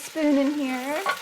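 A spoon drags through a pot of mushrooms and beef for stew in one drawn-out, squeaky scrape lasting about a second. It is close and fairly loud, with a brief bump at the end and no voices.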